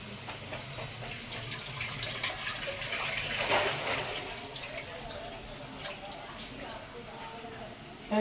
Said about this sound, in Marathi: मी स्वच्छ धुवून घेतली तिला आणि कट करून स्वच्छ धुवून घेते